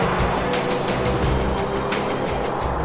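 A VW Golf R and a Mercedes-AMG A45S race side by side, their engines producing a loud, continuous roar with pulsing surges as the cars accelerate hard.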